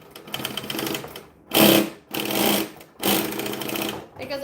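Sewing machine stitching a straight seam on a bag, running in three loud bursts of rapid mechanical clatter separated by brief pauses, up close.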